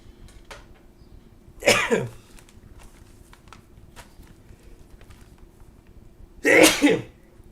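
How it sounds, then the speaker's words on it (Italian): Two loud, close sneezes a few seconds apart, each a sharp explosive burst, with faint small handling clicks and quiet room tone between them and no talk. "scusate gli starnuti"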